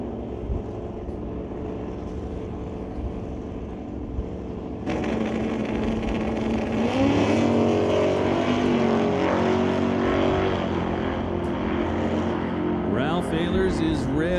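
Drag racing car launching hard from the line at an ET series event, a sudden loud engine roar that jumps up and rises in pitch, heard close under a track announcer's commentary.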